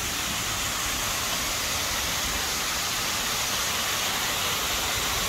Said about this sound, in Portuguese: filmando essa cachoeira ali, ó